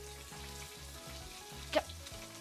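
Salmon frying skin side down in a pan gives a steady, soft sizzle with a faint background hum and a single brief pop or clink near the end, close by and without talk.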